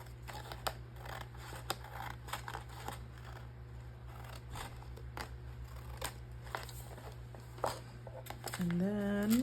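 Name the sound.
trimming paper with scissors for a paper craft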